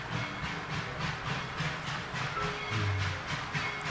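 A train rolling past at Tweetsie Railroad, a heritage line, gives a steady, fairly loud rumble with faint rhythmic clatter and hiss running throughout, no voices present.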